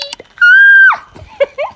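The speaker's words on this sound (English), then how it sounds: "I'm sorry, I had to scream" A single loud, sustained high-pitched excited scream from a woman, held for about half a second, then trailing into brief vocal sounds and breathy noises.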